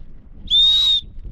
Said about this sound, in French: Un sifflet qui fonctionne plutôt bien